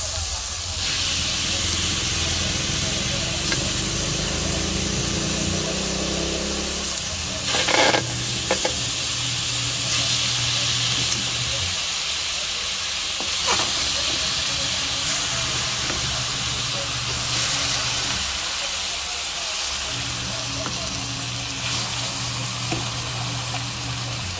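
Chicken pieces for adobo hitting a hot, smoking wok give a steady hiss and sizzle that keeps going, close and fairly loud, with a few brief clatters and stirring noises partway through.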